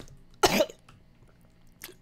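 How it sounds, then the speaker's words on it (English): One harsh cough bursts out at close range during a spicy pepper eating challenge, followed by a shorter, fainter cough about a second later, with near silence between them. "I just coughed and it went into my, like, lungs"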